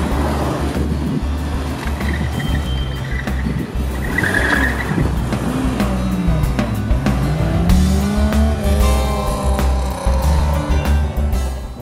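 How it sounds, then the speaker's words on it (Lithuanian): Classic cars weave through a cone slalom at a historic car and motorcycle rally, engines roaring and revving up and down with sharp tire squeals, loud and close, continuous throughout. "nardant jiems tarp kūgelių galima išgirsti ir garsiau suriaumojantį variklį ar padangų cypimą"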